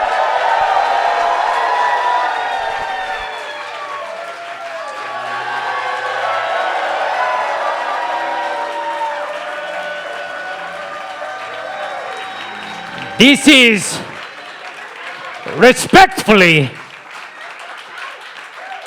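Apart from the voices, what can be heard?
audience cheering and entrance applause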